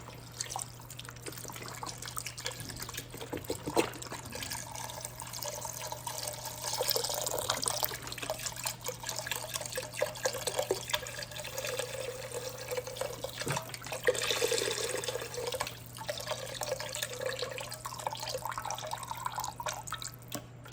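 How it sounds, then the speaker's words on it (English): A 48-ounce carton of stock pours into a cooking pot in a continuous liquid stream, a steady, moderately quiet splashing and trickling under a low constant hum, without talk. "next we're gonna pour our stock into the pot"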